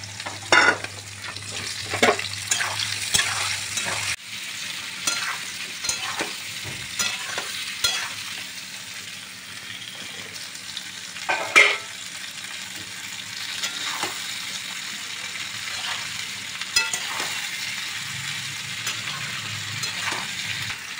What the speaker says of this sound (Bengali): তারপরে আমলকিগুলো তেলের উপর দিয়ে দিলাম